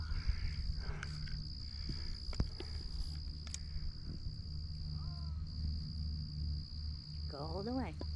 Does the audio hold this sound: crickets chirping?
yes